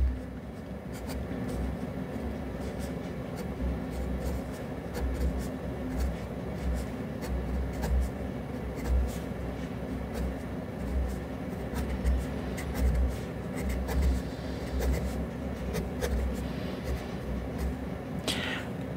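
A Dux 240 fountain pen from Pakistan writes on paper with a smooth nib, giving a soft continuous scratching of strokes with small pauses between words, close and quiet under low room noise.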